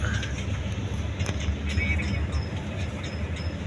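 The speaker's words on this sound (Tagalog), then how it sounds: "Dito na mga truck" Trucks and vehicles at a busy ferry port in Matnog, a steady low engine rumble and traffic drone filling the scene, with faint talk in the background.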